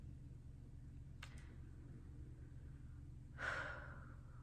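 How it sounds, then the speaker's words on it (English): A single audible breath, a deliberate inhale or exhale, rises near the end over a quiet room hum, after a couple of faint short clicks or sniffs earlier on. "Intentionally breathing."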